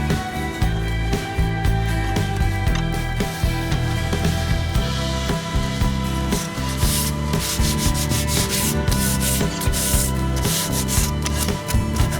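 Continuous rough scraping of sandpaper on a wooden chair in quick repeated strokes, close and loud, with no talking.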